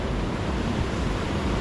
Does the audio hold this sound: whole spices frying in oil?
no